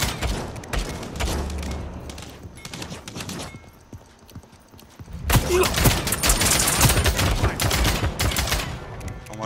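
Gunfire in the video game Realm Royale, with bursts of rapid shots and clattering impacts, easing off briefly before a louder, sustained stretch of firing.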